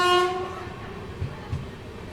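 A Vijayapura–Hubballi passenger train departing Almatti station sounds a short, loud horn blast at the start, then its wagons rumble on with a couple of low thumps as it pulls away.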